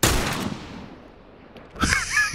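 A loud gunshot in the video game The Last of Us cracks out and fades in a long echoing tail, followed by another burst of close combat noise about two seconds later.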